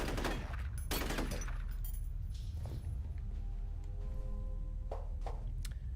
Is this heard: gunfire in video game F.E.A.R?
yes